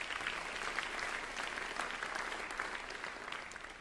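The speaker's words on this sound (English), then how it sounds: "Let's clap for her." At a school band spring concert, an audience claps for a student honoree, giving a dense, even round of applause heard from a moderate distance throughout.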